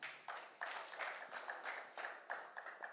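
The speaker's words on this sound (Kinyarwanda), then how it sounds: "nabo dukomera Imana amashyi" Audience at a wedding clapping in praise of God, a steady rhythmic crowd clap with sharp repeated hand strikes, moderately distant and fairly quiet, with no talk over it.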